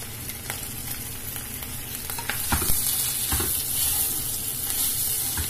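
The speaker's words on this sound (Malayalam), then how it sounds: "അതിലേക്ക് നമ്മൾ എടുത്തു വെച്ചിരിക്കുന്ന തേങ്ങ ഇട്ട് കൊടുക്കാം" Grated coconut and cashews fry in a pan for unnakkayi, giving a steady close sizzle broken by scraping stirs throughout, with no talking.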